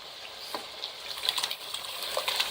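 Taro leaves stirred into cooked spice paste for a Noakhali-style dudh kochu fry sizzle steadily in the pan, a continuous close crackle with scattered brighter pops and soft stirring scrapes.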